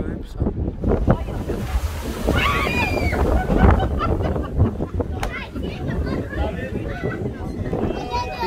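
Rough, storm-driven sea surf crashes and churns continuously under strong, gusting wind, loud and close, with waves rolling in one after another while people talk over the roar.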